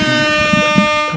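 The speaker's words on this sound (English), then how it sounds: "Air horn." A single sustained air horn blast, loud and close, with a rich buzzing harmonic tone holding for about a second before tapering slightly at the end.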